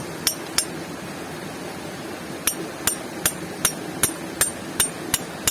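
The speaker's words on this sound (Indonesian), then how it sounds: "menggunakan pahat sama palu aja" A hammer strikes a chisel on rock at a riverbank in the hunt for a gold vein, giving sharp metallic clinks, two early blows and then a steady run of about nine evenly spaced strikes.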